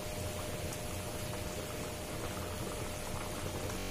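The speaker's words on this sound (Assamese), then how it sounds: "গেছৰ জুই বহাই দি এটা উতল আহিব দিম" Water heats to a boil in a pot on a gas stove, ready for an Assamese fish curry with elephant apple, giving a steady, faint bubbling hiss with no pauses and no voices.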